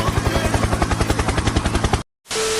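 A loud rhythmic whump-whump of helicopter rotor blades, close and steady, abruptly cut off, then a brief burst of noise.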